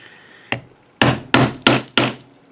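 A hammer bangs on a block of wood to drive a stuck ratchet part loose: one lone strike, then four sharp, loud, evenly spaced blows close by, with no talking.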